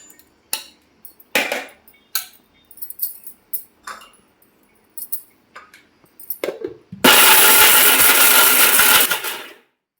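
A kitchen mixer grinder powders jaggery: first a series of short rattling bursts as chunks clatter against the jar, then a loud continuous whirring run for a few seconds before it stops.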